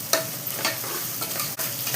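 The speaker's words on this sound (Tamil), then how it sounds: "இதோட பச்சை மிளகாய் மட்டும் சேர்த்து வதக்குங்க." Onions and green chilies sautéing in a pan with salt for kuska, a steady close sizzle broken by the scrape of a spoon stirring several times.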